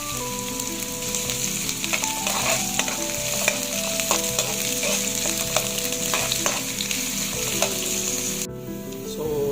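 Garlic and onion sautéing in a frying pan for a simple ginisa, a strong continuous sizzle with stirring clicks and scrapes, the hiss cutting off sharply near the end.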